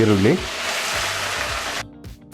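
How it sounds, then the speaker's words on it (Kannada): Masala spices and mint leaves hitting hot oil for a semiya pulao, a loud steady sizzle with a voice speaking briefly over the start and the frying fading toward the end. "ಈಗ ಬಿಸಿಯಾದಂಥ ಎಣ್ಣೆಗೆ ನಾವು ತೊಗೊಂಡಂಥ ಮಸಾಲ ಪದಾರ್ಥಗಳನ್ನ ಸೇರಿಸ್ಕೊಳ್ಳೋಣ."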